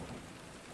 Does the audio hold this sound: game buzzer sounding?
no